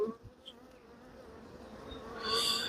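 Honey bees buzz around an open hive during queen release into nucs, a steady close insect drone swelling louder near the end, with no talk.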